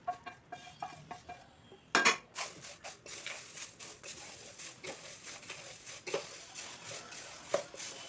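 Fried jowar flakes, makhana and sesame seeds stirred together in a pan, giving light repeated scraping and rattling with an occasional sharper clink of spoon against metal.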